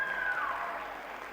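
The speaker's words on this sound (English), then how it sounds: "Please, can you give her a round of applause?" An audience at a conference session breaks into a round of applause, a dense and steady wash of clapping heard from the crowd throughout the short moment, with a brief whistle-like tone sliding down near the start.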